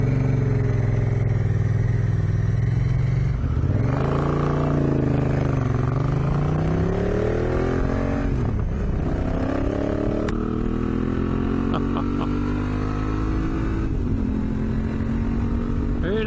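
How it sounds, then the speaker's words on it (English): A Honda Africa Twin motorcycle ridden through the Australian bush is picked up by a helmet microphone, its engine droning and rising and falling through repeated gear changes and throttle swells, loud and steady beneath rushing wind. "Who doesn't love the sound of that bike?"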